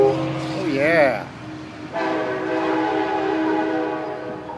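A passing train sounds its horn in a loud, wavering blast near the start, followed by the steady rumble of rail cars rolling by, with a person talking over it.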